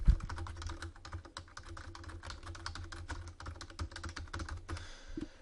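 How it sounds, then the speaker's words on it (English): Rapid, uneven key taps on a computer keyboard, close and fairly quiet, with a continuous run of clicks over several seconds and a few brief pauses. "I'm going to type in some text"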